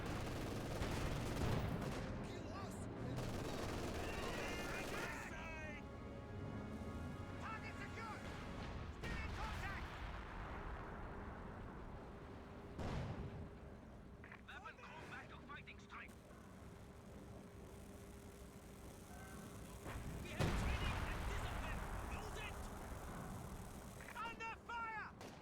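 Battle sounds from the real-time strategy game Company of Heroes 2: scattered gunfire bursts and heavy artillery booms, including a loud blast near the end, mixed with engine rumble while a commentator talks over it.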